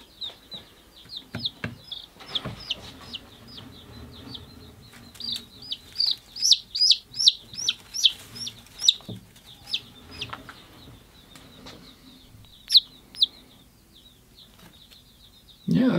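Day-old chicks on a homestead cheep in rapid, high, bright peeps, coming in clustered bursts of varying loudness at close range over quiet background handling noise.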